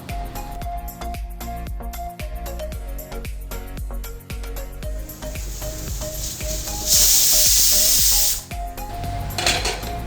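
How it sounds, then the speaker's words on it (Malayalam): Pressure cooker with beetroot inside lets out a loud steady whistling hiss for roughly a second and a half, rising over constant background music that plays throughout. "കുക്കറിൽ നിന്ന് 3-4 വിസിലൊക്കെ വരട്ടെ കേട്ടോ."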